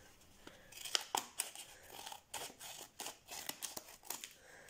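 A mail package being opened by hand, with faint, close snips, tears and crinkles of paper and packaging in an uneven series of short bursts, no talking.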